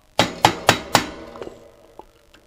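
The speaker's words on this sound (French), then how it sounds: "je creuse une rainure pour insérer mon tournevis plat, et ça s'effrite complètement" Four sharp metallic knocks in a quick even rhythm, then a few lighter taps, as a flat screwdriver is struck to gouge a groove into a crumbling bicycle brake bolt, close and alone.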